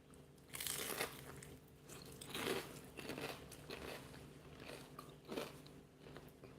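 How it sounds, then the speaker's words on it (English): Crisp bites into a homemade spring roll with crunchy edges, a few loud crackling crunches at about one-second spacing followed by softer chewing, close up with no talking. "Are you hearing that crunch?"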